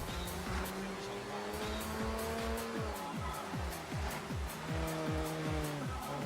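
Mazda RX7 drifting in the Forza Horizon racing game, its engine revving and rising in repeated swells under sustained tire squeal, fairly faint and continuous with no voices.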